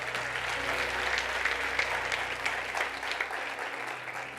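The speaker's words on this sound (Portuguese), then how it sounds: "Dê o melhor aplauso que você puder ao Senhor nessa noite." A church congregation applauds in praise during an evening service, sustained close clapping from a crowd that holds steady at a full level, then eases slightly near the end.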